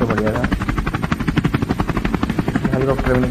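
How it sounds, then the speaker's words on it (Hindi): A helicopter in a commando gun shooting video game beats past with a loud, rapid rotor chop pulsing steadily throughout, close and prominent. "हेलीकॉप्टर भी निकल गया"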